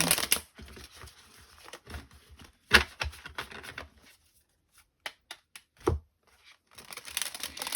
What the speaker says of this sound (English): So this is a new deck. Let's just have a bit of a shuffle